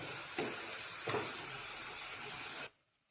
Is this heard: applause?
no